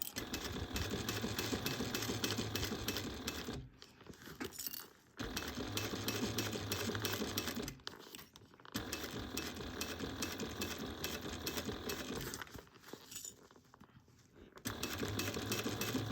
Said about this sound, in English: So you're just gonna cruise around, sewing this together.